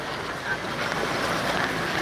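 An NDRF rescue boat moves through flood water in a flooded market in Chiplun, giving a steady, loud rush of churning water and engine noise mixed with wind buffeting, continuous throughout.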